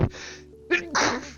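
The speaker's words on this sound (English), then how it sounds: "Sneeze." One close human sneeze: a short breathy build-up and then a sharp, loud burst of air.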